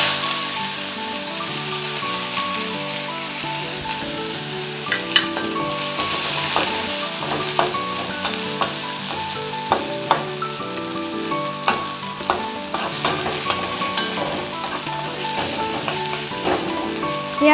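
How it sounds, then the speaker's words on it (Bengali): Chopped onions fry in hot oil for a katla kalia curry, a steady close sizzle with frequent spatula scrapes and taps against the pan, and no talking. "এবার আমি এই তেলের মধ্যেই দিয়ে দেবো পেঁয়াজ। পেঁয়াজ কুচিটা দিয়ে দিচ্ছি।"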